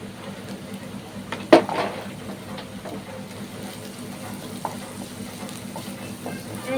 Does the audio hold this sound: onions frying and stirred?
yes